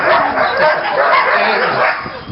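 Husky sled dogs bark, yip and whimper together in a loud, continuous chorus while a team is hooked up for an exercise run at a Denali, Alaska homestead.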